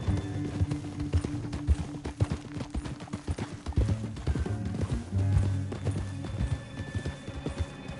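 Rapid hoofbeats clatter in a steady galloping rhythm in Red Dead Redemption 2, with a horse's whinny and a sustained musical tone underneath, heavily processed.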